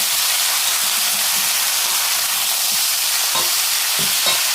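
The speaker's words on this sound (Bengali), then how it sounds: "ভালো করে এটা নাড়িয়ে দেবো" Fish curry frying and being stirred in a pan, a loud continuous sizzle with a few sharper scraping strokes of the spoon near the end, with no voices over it.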